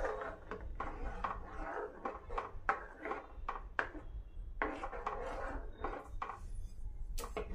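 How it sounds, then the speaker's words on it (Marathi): A spoon scrapes and stirs through thick vermicelli kheer as cardamom powder is mixed in, giving a quiet, close run of rhythmic rubbing and scraping strokes. "आता ही मिक्स करून घेऊ बघा अशा पद्धतीने"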